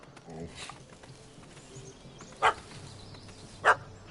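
A puppy in a video game gives two short, sharp barks about a second apart, loud against a quiet ambient game background with faint voice-like sounds beneath.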